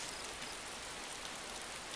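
Steady rain in the video game Arma II DayZ, a faint, continuous hiss with no voices.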